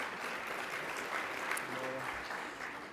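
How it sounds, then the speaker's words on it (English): An audience at a science talk applauds steadily for a few seconds, a soft, fairly distant wash of clapping. "we can all give an applause to Carthay for that little video"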